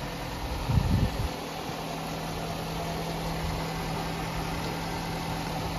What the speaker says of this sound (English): 2013 Nissan Rogue. Car starts.